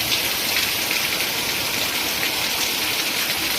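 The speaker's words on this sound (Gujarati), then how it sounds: "ભાઈ જોરદાર વરસાદ છે" Heavy rain pours in Palitana as a dense, even hiss of falling water, steady and unbroken, with no voices over it.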